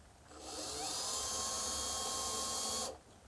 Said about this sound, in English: we've got the drill, and we are going to drill on a van that has exactly 57 miles on it